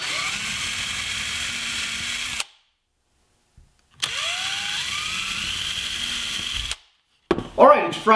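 Power drill boring pilot holes into a wooden cabinet in two steady whining bursts of about two and a half seconds each, separated by a silent pause, close and loud, with a brief voice at the very end.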